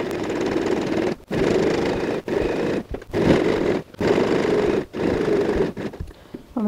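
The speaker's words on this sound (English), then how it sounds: "Just going to place my foot on top of the fabric, align the edge of the foot to the center join, and then just sew a top stitch." A sewing machine runs a top stitch along the curtain-fabric seam of a tote bag, a steady close motor whir in several bursts broken by brief pauses.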